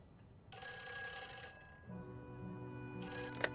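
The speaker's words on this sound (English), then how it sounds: "Ah, my phone's ringing." A mobile phone ringtone in the Nancy Drew: The Phantom of Venice video game, two bursts of electronic tonal ringing separated by a softer melodic phrase, clear and alone.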